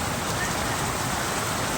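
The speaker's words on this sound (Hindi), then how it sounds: "फ्रेंड्स देखो फ्रेंड्स केते जोरे वर्षा होची" Heavy rain pouring in a village during a strong downpour, a dense continuous hiss and patter on surfaces, loud and steady with no voices.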